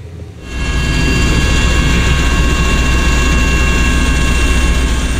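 A Basarnas search-and-rescue helicopter flies over the Bali Strait during the search after the KMP Tunu Pratama Jaya ferry sinking. Its loud, steady engine and rotor drone swells in within the first half second, then holds constant and close.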